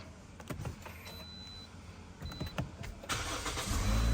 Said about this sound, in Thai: ขออนุญาตทำการสตาร์ทให้ลูกเครื่องยนต์คันนี้นะครับ